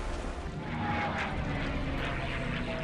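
Propeller airplane engine from the Xbox One flight combat game Iron Wings, a steady loud drone filling the whole stretch with no break, with no one speaking over it.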